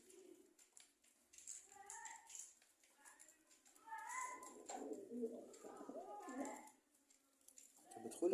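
A pigeon near its nest gives soft, low cooing calls at intervals while a person talks over it in the foreground.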